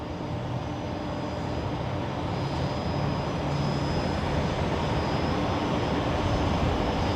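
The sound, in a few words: Qantas airliner engines at airport holding point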